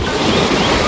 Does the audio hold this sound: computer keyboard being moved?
no